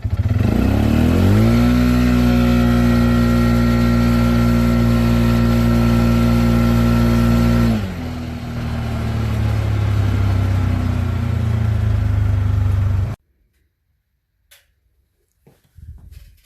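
A Polaris RZR 570 side-by-side, set up with clutching for 32-inch tires, revs loud and close at full throttle. The engine climbs to a sustained roar, eases to a lower drone, then cuts off abruptly, leaving near silence with small knocks.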